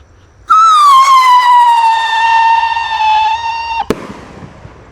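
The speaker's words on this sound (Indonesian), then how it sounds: "di sini ada piro roketar Roman Candle guys. Ini roket yang jumbo." A jumbo Roman candle firework rocket with blue effects launches with a loud, sustained rising whistle lasting about three seconds, ending in a sharp crack close by.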